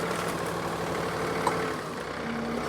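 A John Deere 3046R compact tractor fitted with a grapple for moving trees, its diesel engine running at a steady, even drone close by with no talk.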